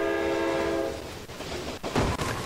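A train in the Brick Rigs video game sounds a sustained horn tone that cuts off after about a second, followed by rumbling rail noise and a couple of sharp clanks.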